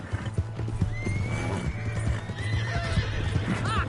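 Horse hooves clip-clop steadily with a loud whinny in a Red Dead Redemption 2 gameplay scene, a rhythmic galloping beat running throughout, with a faint voice briefly in the background.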